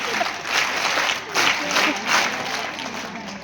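Group of women clapping hands at a workshop, a dense rolling wash of applause that swells and dips in waves, fairly loud and close, with some voices faintly beneath.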